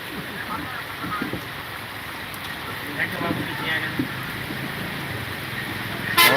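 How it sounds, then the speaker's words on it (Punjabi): Heavy rain falling steadily outdoors near a shop, a continuous broadband hiss with faint voices murmuring underneath. "ਆਹ ਵੇਖ ਲੋ ਕੰਨਾ ਮੀਂਹ ਪਈ ਜਾਂਦਾ"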